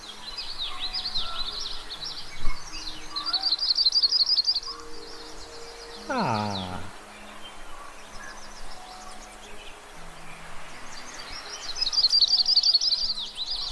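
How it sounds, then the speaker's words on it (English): Yellow-rumped warbler song, bright high trilling phrases repeated several times at moderate distance, with other bird calls, a brief voice, and a clear descending whistle in between. "Would you like to hear what a warbler song sounds like?"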